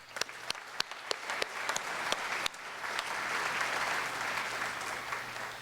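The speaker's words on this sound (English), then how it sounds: "how about a round of applause for them?" At a senior awards ceremony, sharp individual claps come first and quickly swell into broad, sustained applause from an audience honoring graduates.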